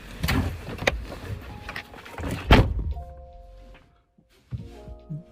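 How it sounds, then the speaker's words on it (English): Car door slammed shut, a heavy thunk with rattling among several handling knocks, followed by a quieter interior with a faint electronic chime. "Why are you slamming the door?"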